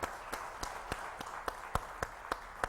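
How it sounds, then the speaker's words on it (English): An audience at a conference on solid waste management in India applauds rag pickers with evenly spaced, sharp claps at a quick steady beat, faint and distant, repeating about every third of a second. "We must give one good applause to all the rag pickers."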